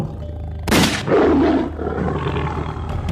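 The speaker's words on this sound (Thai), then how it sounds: "จึงได้ยินเสียงแผดร้องคำรามของเสือสมิงลาย" A sharp loud gunshot blast followed by a deep, rough roar from a tiger, swelling then fading into a rumbling tail.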